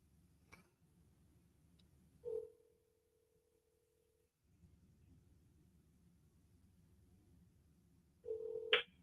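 A phone call rings out before going to voicemail, with two short electronic tones several seconds apart and a faint low hiss in between.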